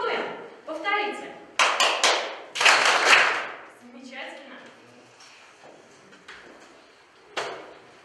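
A school classroom of pupils clapping together in a few sharp, loud bursts as an agreed signal, with speech around the claps and quieter taps fading toward the end.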